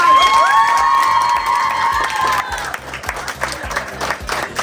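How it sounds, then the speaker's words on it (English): Audience applause and cheering from a crowd with children at a school science exhibition at Bolton Muslim Girls School, loud and sustained, with whoops and high shouts over the start that ease off into steady clapping. "can we have a nice round of applause, please?"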